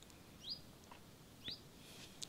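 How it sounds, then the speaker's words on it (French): A bird singing outdoors in a natural rural setting, two or three faint, thin high chirps spaced about a second apart over quiet background hiss. "il y a un oiseau qui chante derrière"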